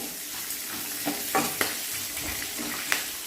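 Curry leaves hit hot oil in a frying pan with peas and cashews, giving a steady broadband sizzle with sharp crackles and pops and some stirring, close up.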